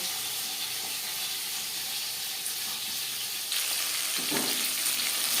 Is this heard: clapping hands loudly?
no